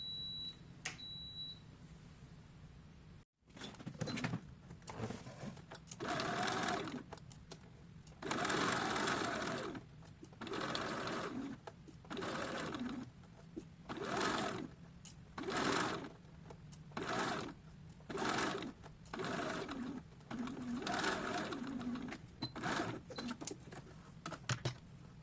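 A sewing machine stitches a seam on a small doll dress in repeated bursts of rapid chattering, starting and stopping every second or two, with a short beep near the start.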